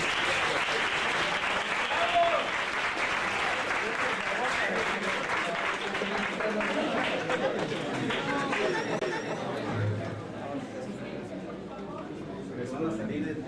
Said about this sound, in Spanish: un último aplauso para los representantes.